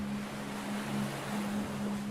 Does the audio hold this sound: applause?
no